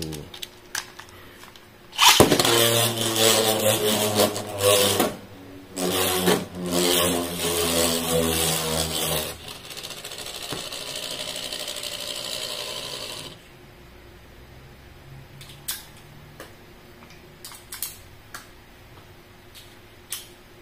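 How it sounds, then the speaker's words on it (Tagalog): A Beyblade X Tricerapress spinning top is launched with a loud burst and then whirs for several seconds in uneven surges. The whir drops to a faint hum, broken by a few sharp ticks and clicks near the end. "Ito guys, unang ikot ng ating Triceratops."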